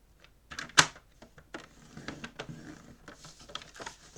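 Paper being folded along a ruler while making a spring mimosa scrapbook album, with a sharp crease snap near the start followed by soft scattered rustles and taps, close and fairly quiet, without speech.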